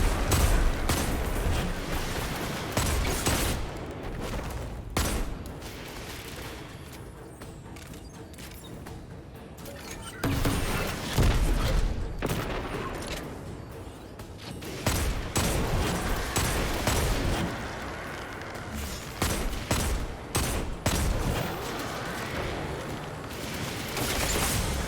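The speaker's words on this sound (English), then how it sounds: "I'm going to toss a grenade into the group on the right and then focus the ones on the left with my gun." Destiny 2 gameplay combat brings bursts of rapid gunfire and blasts, including a grenade explosion, in loud clustered volleys with short pauses between them.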